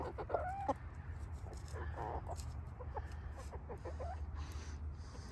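Several chickens cluck and murmur softly nearby over a low steady background hum, with occasional sharper clucks, no talking.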